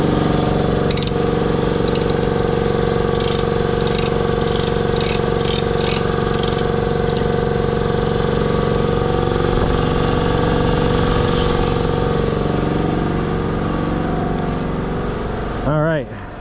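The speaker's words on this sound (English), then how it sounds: "The compressor should turn off soon." Air compressor running continuously with a loud, steady mechanical drone and rhythmic pulsing throughout, close by, winding down near the end, with faint voices underneath.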